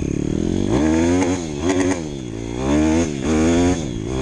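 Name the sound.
Honda CRZ 150 S dirt bike engine revving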